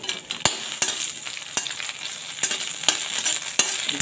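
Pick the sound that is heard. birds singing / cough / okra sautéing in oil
okra sautéing in oil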